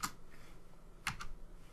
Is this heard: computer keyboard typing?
yes